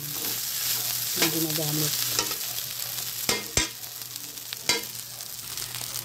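Fried rice with chicken adobo flakes sizzling and being stirred in a kawali, a steady hot fry with scattered scrapes and clanks of a utensil against the pan, close up, with a brief spoken remark.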